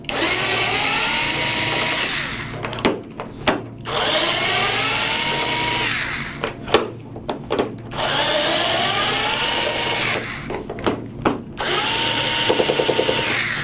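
Power drill driving screws out of a motor housing, loud whining spins in several long bursts that wind down between runs, with short clicks and clatter in the gaps.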